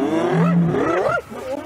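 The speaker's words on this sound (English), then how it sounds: "Lions roaring." Lions roaring at hyenas near a zebra kill in the African bush, one loud close roar that rises and falls before trailing off.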